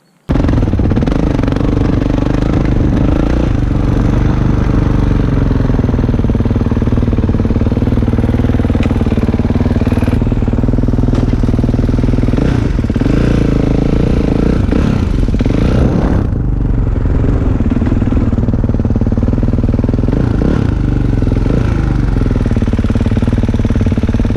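A 2019 Kawasaki KX450 dirt bike roars around an off-road track at Outback ATV Park, its engine loud and continuous with rising and falling revs and rough mechanical clatter throughout, close to the rider.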